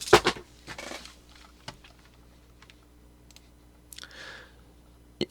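Sharp, scattered clicks from a faulty computer mouse, a few quick ones early and then sparse single clicks, close and fairly faint in a quiet room.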